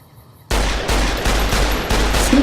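Rapid gunfire in Fallout: New Vegas starts abruptly after a quiet moment, a loud, dense burst of repeated shots that keeps going with slight surges.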